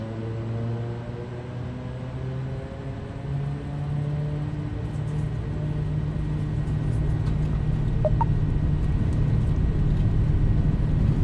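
A turboprop airliner's engines rumble steadily through a takeoff roll in the MSFS 2024 flight simulator, a low droning hum with tonal harmonics that grows gradually louder and fuller over the clip, with no talk.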